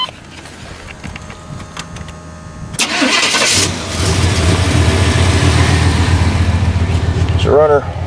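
A Chevrolet truck with a 350 engine and four-speed automatic cranks over and catches, then settles into a loud, steady idle up close, with a brief voice and a squeaky noise near the end.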